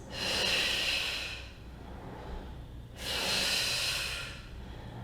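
Two long, forceful exhales during an upper-body reformer Pilates exercise, each a broad airy hiss lasting about a second and a half, close to the microphone, separated by a quieter pause with faint breathing.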